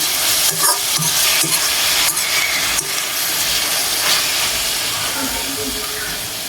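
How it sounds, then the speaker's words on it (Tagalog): Small fish frying in hot oil in a pan while being stirred: a loud, continuous hiss of oil fills the whole stretch, with a few scraping knocks of the stirring utensil early on and no voices. "ilalagay na po natin yung ating maliliit na isda. Haluin lang po natin."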